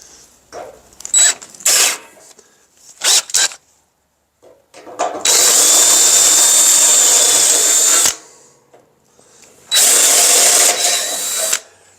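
A power drill drives a screw into a thin sheet-metal blue flame heater base. Several short bursts come first, then two long, loud, steady whirring runs with a shrill screeching tone, all up close and with no talking.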